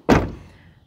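A storage door swings shut with a single solid thunk, close by and loud, then fades quickly into quiet.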